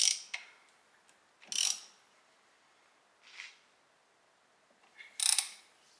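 Bolts being tightened on a budget big brake kit fitted to a diesel Volkswagen Golf, with M10 bolts on the caliper bracket: a few short, quiet bursts of ratcheting clicks separated by pauses, heard alone.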